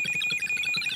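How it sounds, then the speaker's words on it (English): A handheld electromagnetic field ghost detector with a long antenna sounds a steady high-pitched electronic alarm tone, pulsing quickly and fairly loud over the whole second. "It's a detector, it's an alarm that if something comes close to it, like a spirit, or a hand."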